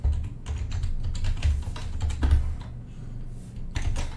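Rapid clatter of keys on a computer keyboard as commands are typed into a terminal, bursts of quick keystrokes with short pauses, close and moderately loud with no talking.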